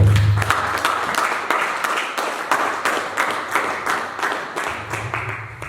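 A church congregation applauds in a sustained, even patter of many hands that holds steady and fades slightly near the end, with a low organ-like tone at the start and finish.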